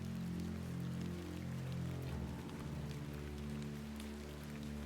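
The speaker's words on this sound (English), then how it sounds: "Oh snap, it's raining." Steady rainfall in The Excavation of Hob's Barrow video game, a continuous soft hiss of drops on surfaces over a low background drone, heard alone without voices.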